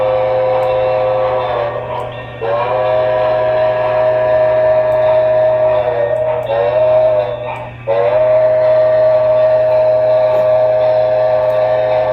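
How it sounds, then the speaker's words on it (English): A loud Broadway Limited model Santa Fe 3700 class 4-8-4 steam locomotive sounds off continuously with steady whistle-like tones and a low hum, briefly dipping twice, with no talking. "Thing is loud. It's a 3700 class Santa Fe 484"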